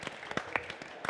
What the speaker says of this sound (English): I just would love you to give them a round of applause